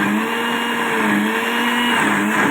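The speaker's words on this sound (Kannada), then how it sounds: "ಜಾರ್ ಮುಚ್ಚುಳ್ಕನ ಮುಚ್ಚಿ ಮಿಕ್ಸಿ ಮಾಡ್ಕೋಬೇಕು ನಾವು" A mixer grinder whirs steadily at full speed while grinding masala in a closed jar for bendekai huli, a loud continuous motor drone with a constant pitch and no talk.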